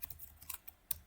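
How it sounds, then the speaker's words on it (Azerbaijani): Quick, light keystrokes on a computer keyboard as a password is typed, a short close burst of irregular clicks with no talk. "Adicə də passwordunu yazıram ki, 1, 2, 3, 4, 5, 6 belə bir şey yazdım."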